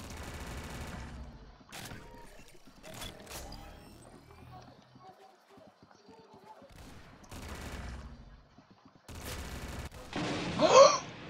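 Gunshots in the Roblox shooter Arsenal during a one-on-one match: scattered bursts of rapid fire broken by quieter gaps, with players talking between and over the shots.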